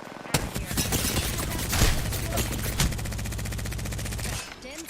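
Rapid, sustained automatic gunfire in a video game, loud and steady after a sudden start, with rhythmic machine-gun bursts and heavier shots mixed in before it cuts off near the end.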